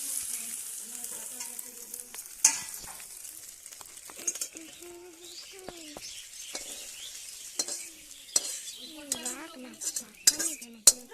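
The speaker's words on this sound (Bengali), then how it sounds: "দেখুন বন্ধুরা, ডিমটা ভাজা ভাজা হয়ে গেছে। এবার আমি নামিয়ে নেব।" An egg frying in a hot pan, a soft steady sizzle with intermittent clinks and scrapes of a utensil against the pan, and faint bird calls in the background.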